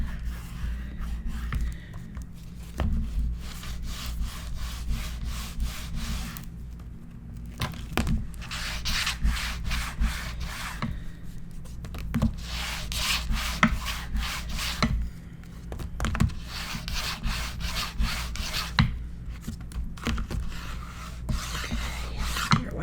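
Paper gets burnished by hand in a Stamperia journal album, giving repeated rubbing and scraping strokes in uneven bursts. The close, fairly quiet rasping goes on for more than twenty seconds with no talk.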